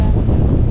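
Cold wind buffets a microphone in the mountain valley of Sonamarg, Kashmir, a loud, continuous rumbling roar that fills the whole moment with no other sound.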